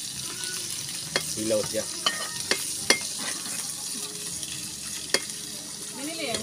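A small amount of food sautéed in a pan gives a soft, steady sizzle broken by a few sharp scraping clicks from stirring, with a brief bit of speech.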